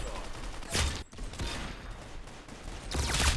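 Gunfire in a first-person shooter video game, several loud sharp bursts spaced a couple of seconds apart over busy game noise.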